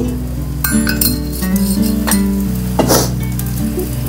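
Oil or ghee sizzles steadily on a hot pan around a spread-out batter, with a few light clinks of a utensil over a constant hiss.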